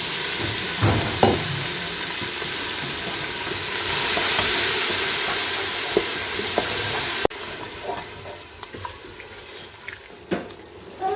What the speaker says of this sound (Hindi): ये गया पानी का छींटा।